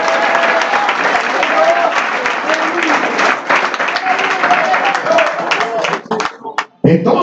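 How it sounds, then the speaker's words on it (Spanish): A church congregation claps together, a dense steady patter under voices that carry through, thinning out near the end with a few scattered claps. "¿Cuántos le dan palmas al Señor si puede por aquí?"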